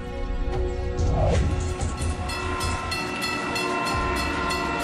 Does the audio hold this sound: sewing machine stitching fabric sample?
no